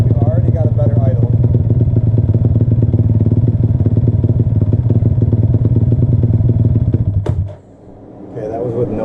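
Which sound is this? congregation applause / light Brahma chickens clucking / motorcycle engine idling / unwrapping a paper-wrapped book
motorcycle engine idling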